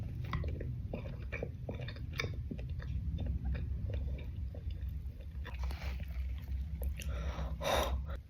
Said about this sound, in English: Let's try Vegemite cheese roll.